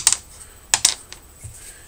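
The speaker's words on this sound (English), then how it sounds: "That's a GraphTech saddle right there. And it has that kind of porcelain sound." A GraphTech guitar saddle on a 1998 Mexican-made Stratocaster, tapped to show its hard porcelain-like tone: a few sharp, bright clicks in two quick groups, close and fairly quiet, with no talk.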